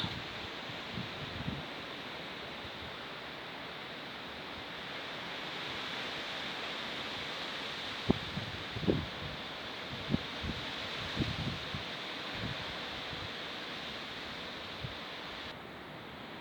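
Wind blowing outdoors on a rocky hillside, a steady broad rushing roar with occasional soft knocks and rustles, no talk.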